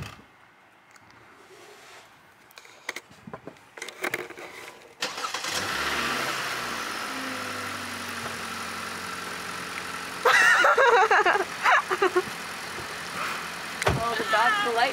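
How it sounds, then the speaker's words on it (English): A car engine cranks and catches, then settles into a steady low idle that runs on, with people talking nearby over the engine noise. "I'm gonna start my car"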